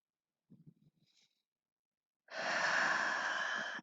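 Deep yoga breathing: a few soft, faint breathy sounds early on, then after a pause one long, strong, airy inhale or exhale lasting over a second, close to the microphone.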